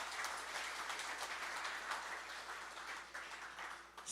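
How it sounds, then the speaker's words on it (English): Faint, steady audience clapping for a live band at a cabaret-style performance, a soft even patter of many hands heard alone without talk. "Yeah, you're clapping."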